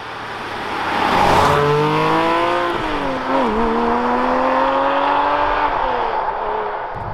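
A 2020 Porsche 718 Spyder's naturally aspirated engine revs loud and close, pitch climbing and dropping through rapid gear shifts, with a brief dip at each change before it pulls again.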